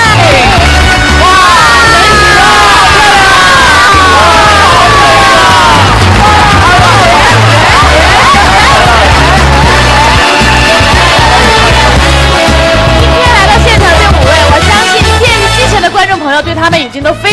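A theatre audience claps and cheers for the actresses of the Shanghai Yue Opera House Red Chamber troupe at a memorial concert, a loud, unbroken roar of applause with whoops and shouts that fades slightly at the end.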